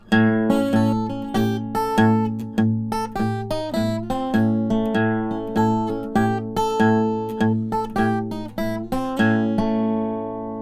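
Acoustic blues guitar fingerpicked, a steady quarter-note bass thumping under plucked treble notes, played solo with an even, driving rhythm and close, clear tone.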